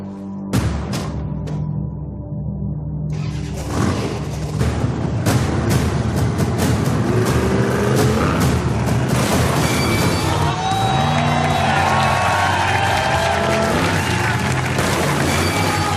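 A monster truck engine roars and revs as the truck climbs a ramp, with loud booming crashes, a cheering crowd and voices mixed into the dense, sustained racket.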